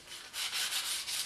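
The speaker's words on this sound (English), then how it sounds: "take a little piece of sandpaper" Sandpaper rubs along the rounded edge of a wooden vertical-axis wind turbine blade in a few short, close, raspy strokes, with no talk.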